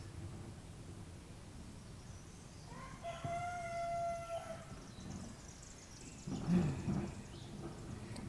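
A rooster crows once, fairly faint and distant, over a steady low background rumble, followed by a brief muffled clatter.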